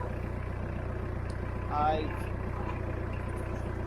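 A tractor engine idles steadily with a low, even rumble throughout, continuing under a brief spoken word from a nearby man on a woodland working day.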